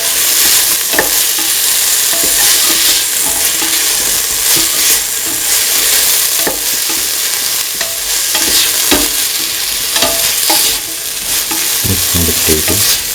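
Potatoes and peas fry in a pan for a coconut milk chickpea stew while a spoon stirs them, giving a steady close sizzle with scraping and clacking strokes throughout, and no talking.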